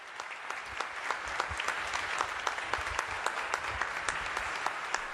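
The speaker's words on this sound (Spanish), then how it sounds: "Inmediatamente el aplauso de todos los presentes a la homilía que el Papa León ha pronunciado." Large audience at a prayer gathering in Istanbul applauds a papal homily, a steady wash of many hands clapping at moderate level with distinct claps standing out, continuing without pause.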